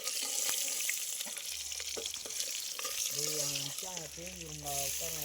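Onions, green chillies and tomatoes frying in a pan for a fish curry give a steady sizzle with a few stirring clatters, while people talk over it.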